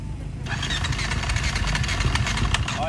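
A two-stroke motocross bike revs hard at a motocross national event, a loud, steady, buzzing engine note close by throughout, with faint crowd voices underneath.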